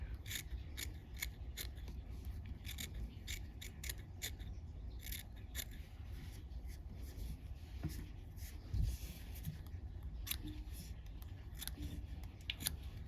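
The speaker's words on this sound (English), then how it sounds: "I like to use curved scissors." Quick, crisp snips of curved scissors trimming a fly while fly tying repeat in irregular bursts over a low background hum, close and fairly quiet, with no talking.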